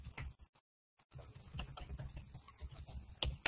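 Keys on a computer keyboard are tapped in quick irregular bursts, quiet and close, with a brief pause near the start.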